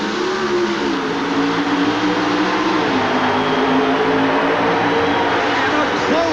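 Pro Stock drag racing cars at a 1988 final round in Sonoma, California, roaring steadily with a sustained, loud engine drone that shifts slightly in pitch partway through, with some background commentary-like voice.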